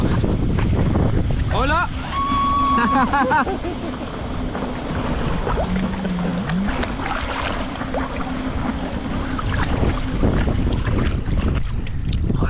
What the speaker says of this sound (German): da brettern die Jetskis vorbei